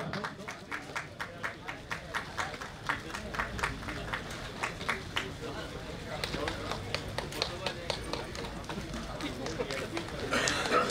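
Audience clapping at a university Independence Day ceremony, a steady patter of many hands with rhythmic bursts, moderately distant, continuing under a voice announcing names.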